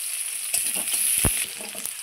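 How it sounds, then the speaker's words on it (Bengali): Chopped garlic and green chili frying in hot mustard oil, a loud, steady sizzle close by, with a few short bursts of stirring scrapes in the pan. "আমার এদিকে রসুন একটু ভাজা হয়ে গেছে"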